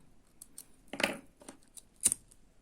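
Scissors snip through beading thread during beadwork, giving a few sharp, close clicks spaced about a second apart against a quiet room.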